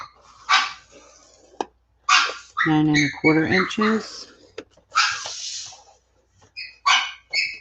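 A pet dog indoors gives several short barks and whines between bursts of a woman's speech during a paper-crafting session, the barks moderately loud and close, alternating with her talking.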